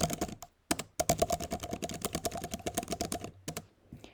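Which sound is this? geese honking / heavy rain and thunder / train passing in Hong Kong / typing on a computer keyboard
typing on a computer keyboard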